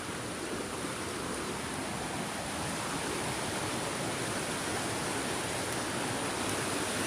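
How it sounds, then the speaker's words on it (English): Water rushes powerfully in a constant, dense roar, like a strong torrent or cascade on the Pacific Crest Trail, steady throughout with nothing else heard. "I heard this water and I was like, ah, man, that sounds powerful."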